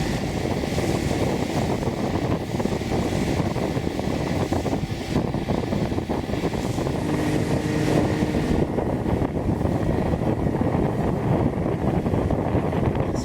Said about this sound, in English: you can see the Chrysler Big Daddy 85 horsepower runs pretty good, pretty strong